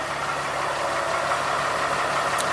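A diesel engine idles steadily after a cold start with a low rumbling drone, fairly loud and close, running evenly without revving.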